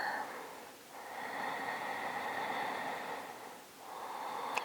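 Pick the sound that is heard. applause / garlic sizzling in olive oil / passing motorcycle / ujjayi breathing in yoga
ujjayi breathing in yoga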